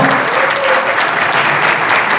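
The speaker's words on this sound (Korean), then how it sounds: "여러분 큰 박수 부탁드릴게요." An audience at a football club event applauds, dense steady clapping close and loud throughout with faint crowd murmur.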